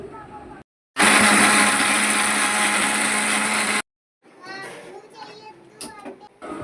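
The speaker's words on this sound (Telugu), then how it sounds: "అల్లం వెల్లుల్లి ఉల్లిపాయ టమాటా అయితే మిక్సీ పట్టుకోవాలి" A mixer grinder whirs loudly and steadily for about three seconds grinding ginger, garlic, onion and tomato, with voices and household noise before and after it.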